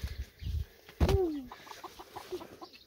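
A single chicken gives a sharp cluck amid soft rustling and faint background clucks, fairly quiet overall.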